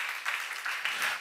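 Congregation clapping together at a church seminar, a steady, dense wash of applause sustained throughout with slight swells, fairly close and with no voices over it.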